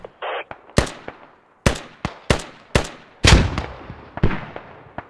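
Mortar fragmentation rounds firing in the military shooter Squad, heard as a series of about eight sharp, loud reports spaced irregularly across a few seconds. Each report is followed by a short decaying tail, and a brief hiss comes just before the first shot.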